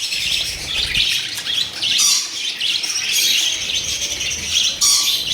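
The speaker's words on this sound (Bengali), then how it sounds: "প্রচুর পরিমাণে বর্দি পাখি আছে, 300-র ওপরে" A crowded cage of budgerigars, over three hundred birds, fills the air with loud, overlapping squawks and chirps that burst repeatedly close by without pause.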